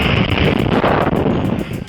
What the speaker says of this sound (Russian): В Оренбурге поднялся сильный ветер